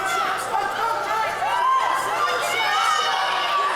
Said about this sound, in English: The crowd is pumped for this one.